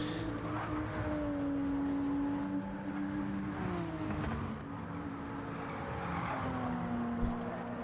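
A Nissan Z race car drives on a track during a time trial, its engine a steady droning whine with shifting pitch, accompanied by other engine tones and faint background noise, at moderate distance.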